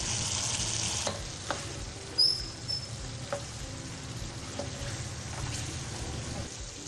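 Khara masala chicken fries on a high flame to cook off its remaining water, giving a steady close sizzle. Occasional soft clinks and scrapes of stirring break in, and no one speaks.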